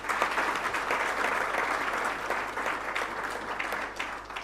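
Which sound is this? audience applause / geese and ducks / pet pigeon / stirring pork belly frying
audience applause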